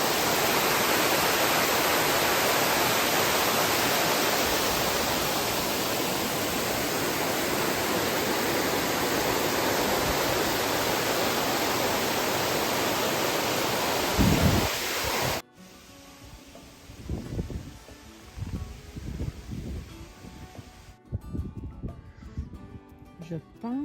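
Roaring waterfall at the Chute à Pico on a hiking trail, a loud steady broadband rush filling the first fifteen seconds, then cutting away to quieter outdoor sound with scattered knocks and faint activity.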